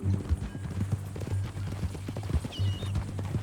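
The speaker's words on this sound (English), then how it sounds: "That a new horse?" Horse hooves clip-clop at a walking pace in the game Red Dead Redemption II, with a fairly even rhythmic stream of close, moderately quiet thuds and a faint tonal hum underneath.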